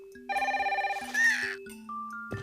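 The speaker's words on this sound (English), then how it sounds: "when the phone rings at 3 in the morning, it surprises you" A telephone rings in the middle of the night, a fast warbling bell tone followed by a few sustained electronic tones, close and clear with no talk.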